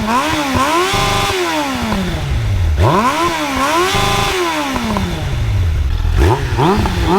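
A Suzuki 600 Bandit S motorcycle engine revs loudly up and down in three rising-and-falling sweeps at close range, with a rough, buzzing idle in between.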